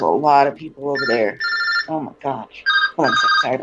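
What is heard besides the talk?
telephone ringing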